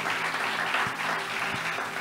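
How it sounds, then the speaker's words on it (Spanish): A studio audience gives a brief, fairly faint burst of steady applause for the viewers at home during a live broadcast, with no talk over it. "¿Qué no le enviamos un aplauso a las personas que están en casa?"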